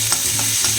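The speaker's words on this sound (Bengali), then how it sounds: "এবারে আমি এর মধ্যে পেঁয়াজ দিয়ে দিয়েছি। পেঁয়াজটা একদম লাল করে ভেজে নেব।" Onions frying in hot oil for a duck meat curry, a steady close sizzle with a few soft stirring scrapes over less than a second.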